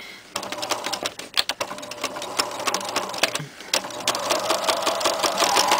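A sewing machine runs a zigzag stitch along a fabric cuff, its needle clattering in a fast steady rhythm that starts, pauses briefly, then resumes louder and continuous, close up with no talking.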